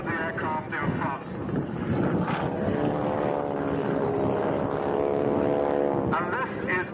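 A propeller aircraft drones steadily overhead at the Duxford Autumn Airshow in 1994, its engine tone sustained and moderately distant, while a commentator speaks over the sound.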